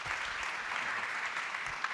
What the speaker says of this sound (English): a round of applause before we get started